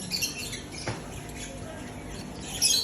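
Pet parrots squawking in a short, noisy stretch, with harsh bird calls rising over a steady background hiss, sharpest near the start and end.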